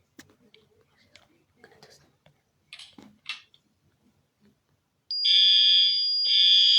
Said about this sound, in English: I'm gonna test that fire alarm.